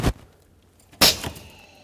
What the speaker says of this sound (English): That's the sound of the vacuum being released.